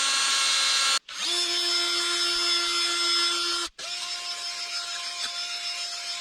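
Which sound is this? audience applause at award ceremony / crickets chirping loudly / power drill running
power drill running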